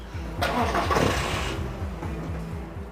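A car engine cranks and catches as a woman drives off in a car park, a burst of starting roar followed by a steady low idle rumble, fairly close.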